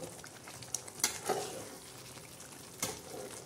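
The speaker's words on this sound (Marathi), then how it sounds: "आपण ही मच्छी सोडलेली आहे आणि छानपैकी असं आता ही हलवून घेणार आहोत" Shingada fish stirred in yellow masala in a frying pan: a soft, faint sizzle with a few brief scraping bursts as it is moved around.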